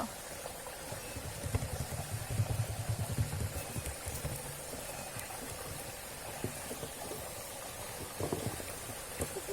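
Rain falls steadily outdoors near a fishing spot, a soft continuous patter with scattered drops, fairly faint and unbroken, with no voices in the clip.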